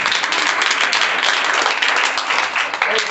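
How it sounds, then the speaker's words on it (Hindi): Children in a primary-school classroom clap together during a maths lesson on fractions, a loud, dense burst of rapid hand clapping that fills the room continuously. "वेरी फाइन, ताली करो।"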